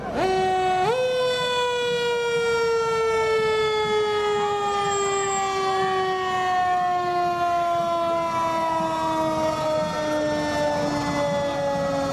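St. George Fire Department fire truck wailing its siren in a Veterans Day parade in St. George, Utah: a loud, sustained siren tone that jumps up once, then slowly glides downward, with crowd and street noise underneath.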